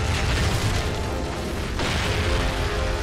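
Explosion in Crysis 3 running on Crytek's CryEngine 3, heard as a dense, loud rumbling roar that stays sustained throughout, with a fresh surge of debris and crackle partway through.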